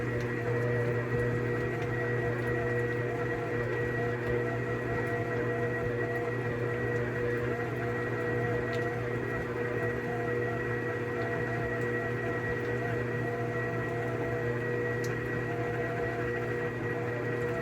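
An electric mixer runs steadily on low speed, beating cream cheese cake batter, giving a constant motor hum with a stable pitch and a few faint clicks, unbroken throughout.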